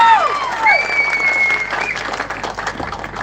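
Audience applause at a TVK political rally, a sustained wash of crowd clapping with whistles and cheers rising early, then thinning toward the end.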